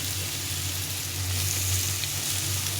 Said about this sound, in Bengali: এটাকে ভালো করে একটু ভেজে নিতে হবে, খুব ভালো করে একটু লাল লাল করে ভেজে নিতে হবে।